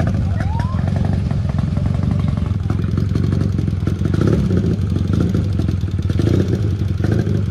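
A small Honda motorcycle engine runs steadily close by on a Brazilian coastal road, a continuous mid-pitched rumble with some clatter, while people talk over it.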